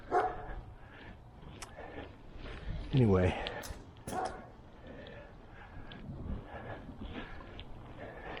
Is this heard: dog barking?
yes